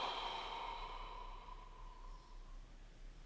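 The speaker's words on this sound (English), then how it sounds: "and breathe out." A deep exhale during a follow-along hips training exercise, a soft breathy rush that is loudest at the start and slowly fades over about three seconds, heard alone without talk.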